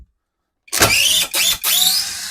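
A Grosser GID 230N cordless impact driver whirs in three short bursts driving a wood screw, with brief pauses between, close and loud, its pitch rising slightly in each burst.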